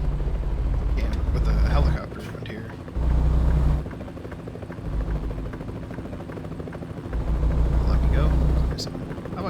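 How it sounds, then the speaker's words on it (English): A helicopter in American Truck Simulator beats steadily overhead on a highway, a loud low rotor thrum that swells and fades in pulses, with someone talking over it. "I was too busy looking at the helicopter up there."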